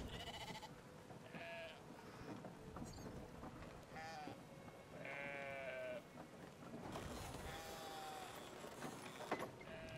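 Sheep bleating in the video game Brothers: A Tale of Two Sons, several wavering cries spaced through the stretch over a steady mechanical game backdrop, moderately loud.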